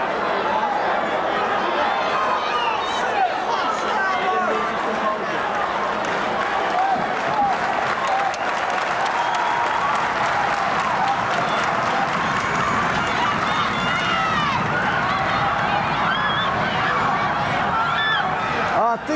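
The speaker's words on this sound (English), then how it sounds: "We got the crowd. We got pandemonium." A loud wrestling-match crowd roars without a break, the cheering and chatter dense and steady from start to finish, with no single voice standing out.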